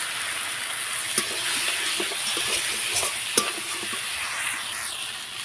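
Spices sizzling and being stirred in a hot pan for a chital fish curry, a continuous bright frying hiss with occasional scrapes and clinks of the spoon against the pan.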